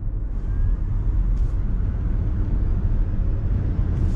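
A 2021 Ford Mach-E electric car accelerating on throttle with its artificial propulsion sound switched off, leaving a steady, loud low rumble of road and tire noise with no engine tone.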